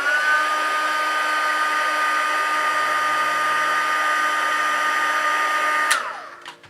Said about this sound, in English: I'm just going to heat set that now.